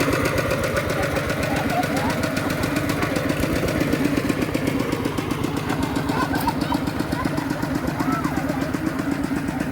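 A Lao-Thai farm truck (rot i-taen) engine chugs steadily throughout at a wedding procession in a rural Lao village, its loud continuous knocking rhythm mixed with crowd noise and voices.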